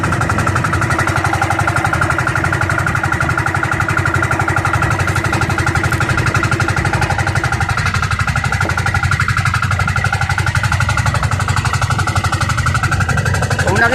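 A fishing boat's engine runs without pause at a steady mid-pitched drone while the net is hauled, loud and close throughout, with no speech over it.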